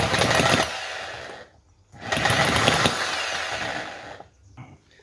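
A small model V-twin engine that is hard to start and tune runs in loud, raspy buzzing bursts close by, cutting out briefly twice and sputtering before dying away.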